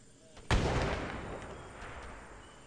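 A single loud gunshot crack in the ARMA 3 Vietnam war mod, set in jungle bush, followed by a long echoing decay across the terrain.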